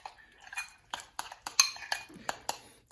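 A spoon clinks and scrapes repeatedly against a container while stirring a vanilla protein shake with microwaved berries, a series of bright, irregular metallic taps close by.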